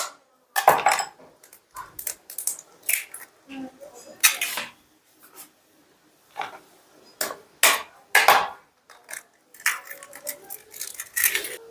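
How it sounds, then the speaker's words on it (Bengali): Two eggs cracked into a bowl while cooking chicken bhujia at home, heard as a series of sharp, close taps and clinks of shell against the bowl's rim, with soft wet plops between them. "এই বাটির মধ্যে আমি 2টো ডিম ফাটিয়ে নিচ্ছি"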